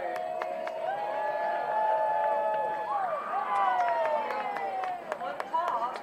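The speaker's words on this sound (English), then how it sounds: "I think I can hear you cheer just a little bit louder." Baseball fans cheering from the stands at a Clinton at Burlington game, a steady crowd roar with whistles and scattered claps swelling and easing over several seconds, with an announcer's voice over it.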